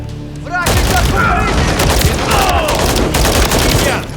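Heavy, continuous gunfire in Call of Duty Modern Warfare 3 (2023), with loud overlapping bursts of automatic fire and booming blasts packed close together for several seconds after a brief quieter opening.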